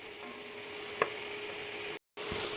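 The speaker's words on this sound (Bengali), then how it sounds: "পেঁয়াজ দিয়ে দিলাম পেঁয়াজটা একটু ভাজা হোক" Onions frying in a pan, a steady close sizzle with a brief clink partway through and a short dropout near the end, no talk.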